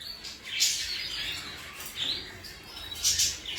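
Jiboos breed pigeons give bright chirping, squawking calls in several bursts, near and moderately loud, with no voices present.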